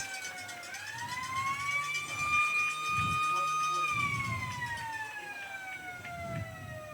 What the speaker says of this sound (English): Y'all heard the siren.